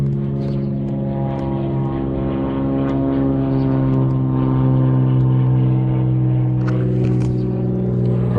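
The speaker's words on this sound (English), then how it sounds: "You go from working on toy planes to having private lessons on airplanes while you flying them over." A small private propeller airplane drones steadily overhead, loud and continuous with a strong humming engine tone that swells slightly toward the middle, with faint background sounds.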